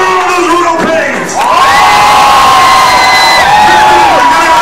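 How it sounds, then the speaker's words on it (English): Fans at a roller derby bout erupt in cheers for the Royal Pains, a loud, sustained crowd roar with piercing whoops and yells after a short lull. "Who's cheering on those Royal Pains?"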